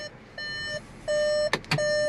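A 2023 Volkswagen Atlas V6's electronic warning chime beeps in sustained tones, pausing between them, with a couple of brief clicks near the end.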